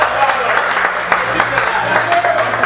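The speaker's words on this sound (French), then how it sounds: "Applaudissez-vous mon gardien." Loud audience applause at a French-language stand-up comedy show, dense continuous clapping that holds steady throughout with a few voices mixed in.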